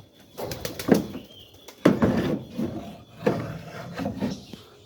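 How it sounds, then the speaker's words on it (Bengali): Pigeons are let loose all at once, several bursts of wing flapping clattering close by with brief pauses between them, and faint coos mixed in among the beats. "তো এখন কবুতরগুলাকে ছেড়ে দেব"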